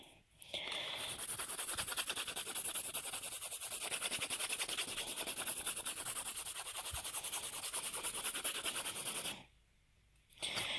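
A file rasping across a gel nail in a steady, fast back-and-forth rhythm, close and continuous for about nine seconds before stopping briefly and resuming.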